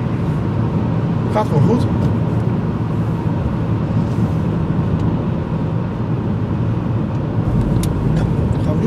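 A 2012 Ford Focus 1.0 EcoBoost 100 hp ECOnetic Titanium accelerating, its engine a steady, close droning rumble that runs throughout while someone speaks briefly over it.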